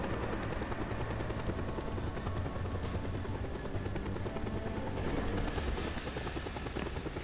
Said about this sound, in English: for just enough for the helicopter to pop in